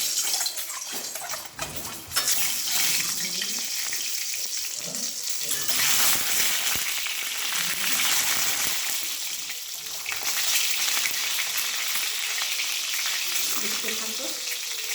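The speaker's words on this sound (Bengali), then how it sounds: "আগে ডিমটাকে ভেজে নিই।" Eggs frying in a pan for egg curry give off a loud, close, bright hiss and crackle that swells and eases over the stretch, with faint voice murmurs underneath.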